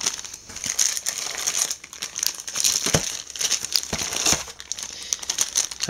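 Sealed factory packaging of an HTC Hero phone's accessory pack being unwrapped, with steady close crinkling and crumpling of plastic and sharper tearing bursts throughout.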